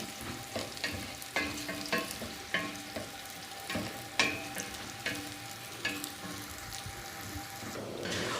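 Rice frying to a golden colour in a pan, sizzling steadily while a utensil stirs and scrapes it in repeated strokes, close and clear with no talking.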